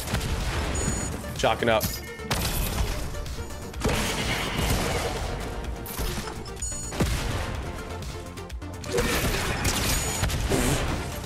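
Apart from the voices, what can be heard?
gunfire in the video game Fortnite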